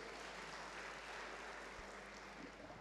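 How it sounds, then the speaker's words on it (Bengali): An audience at a company's seventh-anniversary celebration applauds a group of newcomers, a faint, steady wash of clapping from a distance. "তাদের জন্য একটা জোরদার করতালি প্রত্যাশা করছি।"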